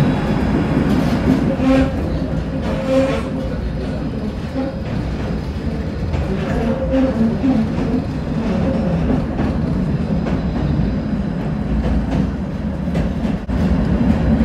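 Tram ride toward the steelworks terminus in Košice, Slovakia, past open fields: a steady rumbling rail roll with recurring wheel clatter and faint squeals, loud and continuous from inside the car.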